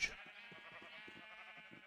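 A sheep in Minecraft gives a single drawn-out wavering bleat, near and fairly soft, with no other sounds around it.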